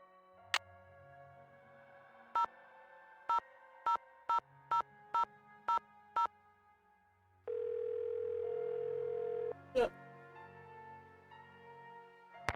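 A telephone call placed in a Nancy Drew mystery game: an initial click, a run of evenly spaced short dial-tone beeps, then a long steady ringing tone before the line connects with a clunk, clean and alone.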